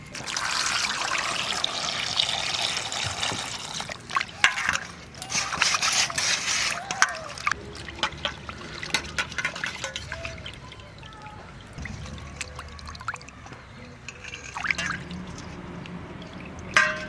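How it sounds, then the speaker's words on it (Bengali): Fish being rinsed by hand in water in a village kitchen, with close trickling, pouring and splashing that comes and goes in uneven bursts, no talk. "মাছগুলো ধুয়ে নেবো ভালো করে"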